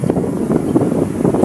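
Strong wind buffets the microphone outdoors, a loud continuous low rumbling roar with gusty swells throughout.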